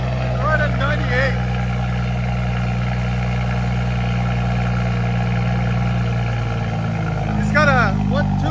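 A tuned 2017 BMW 540i with a 3.0L inline-six, downpipes and a straight-pipe exhaust idles with a steady, deep, close burble, and people talk over it throughout.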